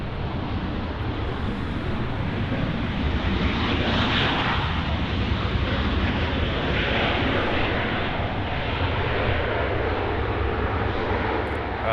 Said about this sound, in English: here goes Aero Mexico 787